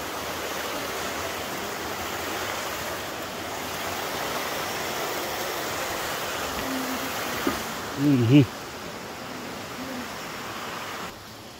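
A cold, clear mountain stream rushes continuously in the open air, a broad steady noise with a brief louder splash or knock near the end.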